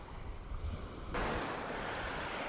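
Sea waves washing onto Sea Palling beach in Norfolk, a steady broadband roar of surf with wind buffeting the microphone, growing louder and fuller partway through, with no talking.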